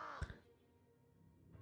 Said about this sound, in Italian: È un corvo.